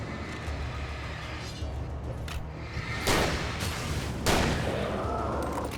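Gunshot in the video game Alan Wake Remastered: two loud, sharp reports about a second apart over a steady rumbling ambient background.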